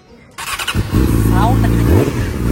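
A Yamaha R6 motorcycle engine catches and fires up, then settles into a loud, close, throaty idle with a brief rev, and voices can be heard nearby.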